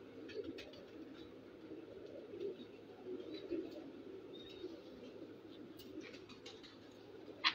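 Pigeons coo from a rooftop loft in low repeated murmurs at moderate distance, with occasional faint clicks and a brief sharp noise near the end, no clear talking.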